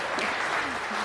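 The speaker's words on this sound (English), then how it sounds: "if you can clap for her, it's okay" A conference audience at a government web event claps as a speaker comes on stage, a brief steady burst of crowd clapping with a voice faintly mixed in.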